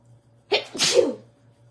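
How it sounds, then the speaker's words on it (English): A single close, loud sneeze with a short breathy intake that bursts into a sharp explosive release, over a faint steady background hum. "I'm gonna sneeze."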